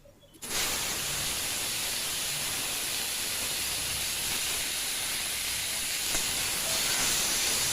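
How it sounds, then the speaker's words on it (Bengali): Shrimp frying in hot oil in a heated wok, a steady loud hiss and spatter starting abruptly after a brief quiet moment and holding for several seconds with no talk. "তো এখন আমি চিংড়ি মাছটা ভেজে নেব"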